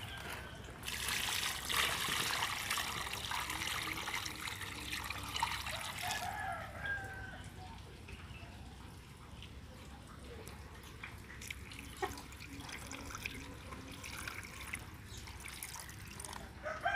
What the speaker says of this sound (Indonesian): Oke, kita kocor semuanya.